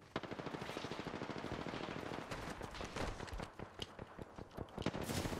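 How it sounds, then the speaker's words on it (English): Rapid automatic gunfire from the video game Apex Legends, dense bursts of shots rattling almost continuously and loud throughout, with sharper cracks punctuating the stream near the end. "They're shooting at me."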